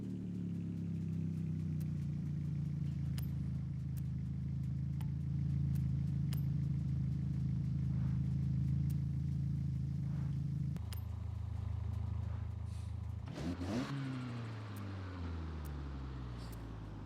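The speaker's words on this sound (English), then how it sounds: "That's a kind of silly engine sound" A game car fitted with weight reduction and mud flaps drones at a steady engine note, then drops off and surges in a brief rev near the end, with no talk.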